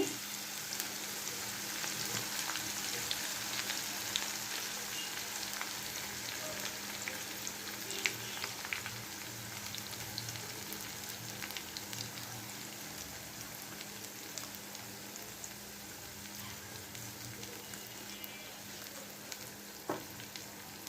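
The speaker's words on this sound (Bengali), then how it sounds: "তেল গরম হয়ে গেছে এবার ভাজতে চলে যাই কতটা গরম হয়েছে দেখে নিচ্ছি বেশ ভালোই গরম হয়েছে এভাবে ছড়িয়ে দিতে হবে" Sliced onions fry in hot oil for beresta, a steady dense sizzle and crackle running without a break, close and fairly loud, with a few brief pops and no voices.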